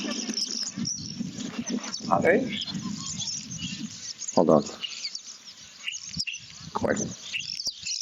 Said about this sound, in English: I think these are, what do you call them? I think in Russian they're called skvartsi.